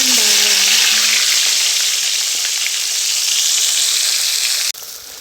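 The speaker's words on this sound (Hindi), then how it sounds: "चिकन हमारा अच्छा सा फ्राई हो गया है" Chicken fries in hot oil for a street-style chicken roll, a loud, dense, continuous sizzle up close that cuts off abruptly near the end, leaving a fainter hiss.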